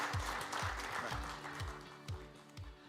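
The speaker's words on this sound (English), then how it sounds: "Please, with a round of applause and a warm welcome to Nick." An audience at an architecture awards ceremony gives a soft, fairly distant wash of applause to welcome a speaker on stage, with low thumping sounds and murmured voices underneath.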